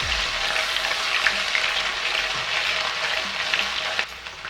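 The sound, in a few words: garlic and ginger paste frying in a pan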